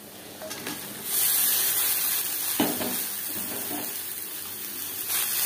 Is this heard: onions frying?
yes